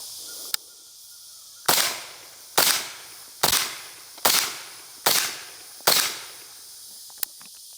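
Six evenly spaced suppressed shots from a Sig MCX rifle on its minus gas setting, each a sharp crack with a short decay, fired at close range with a faint click before and after.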